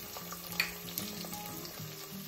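Chopped onion going into hot oil with bloomed cumin and black pepper for a dhaba-style chicken handi: a steady close sizzle and crackle with a few sharp pops early on, no voices.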